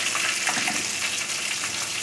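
Curry leaves, bay leaf, cinnamon, cloves and peppercorns frying in hot oil, a steady close crackling sizzle throughout with faint bubbling, no voices.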